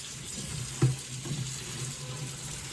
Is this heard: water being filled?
yes